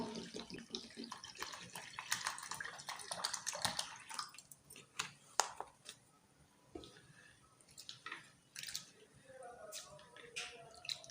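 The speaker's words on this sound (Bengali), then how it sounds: "এবার জল দিয়ে চিড়েগুলো ভালো করে ধুয়ে নেবো" Flattened rice (chira) gets washed in water, with soft sloshing, trickling and dripping plus occasional splashes and clinks, faint and close in a quiet kitchen.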